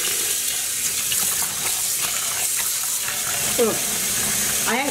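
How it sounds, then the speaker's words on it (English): Cool tap water runs steadily into a sink while yarn skeins are washed with dish soap, a constant rushing wash with faint sloshing and stirring throughout. "I'm using cool tap water and some dish soap here for the actual washing."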